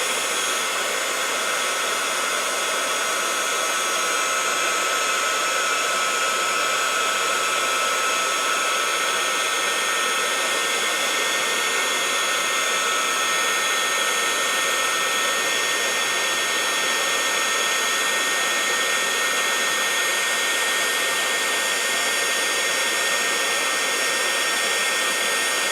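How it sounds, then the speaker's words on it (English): A hair dryer blowing hot air to heat-dry an altered book, running as a loud, steady, close whir without a break, with no talking over it. "Let me get done blow drying this."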